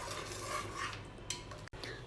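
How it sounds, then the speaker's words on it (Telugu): A spoon stirs dal with its tempering in a metal pot, soft scraping and clinking over a faint sizzle, quiet and close, with a brief sharp knock near the end. "పప్పు యాడ్ చేసిన తర్వాత మరొకసారి అంతా బాగా కలిసేటట్టు మిక్స్ చేసుకోవాలండి"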